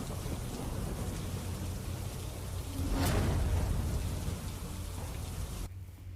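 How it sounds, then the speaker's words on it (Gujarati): Heavy monsoon rain pours down in a town in Gujarat, a dense, steady hiss of downpour with a loud thunderclap near the middle, before the sound abruptly cuts to quieter. "વરસાદ વરસતા વાતાવરણમાં ઠંડક પ્રસરી."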